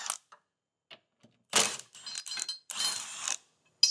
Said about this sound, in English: So we'll remove that with a 17mm socket.